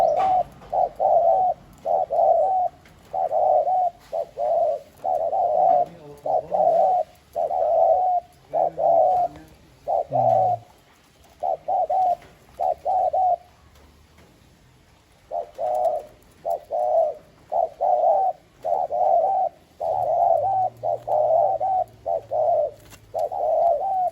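A decoy dove coos over and over in quick, high-pitched rhythmic phrases, close and clear, with a brief pause midway before the calling resumes.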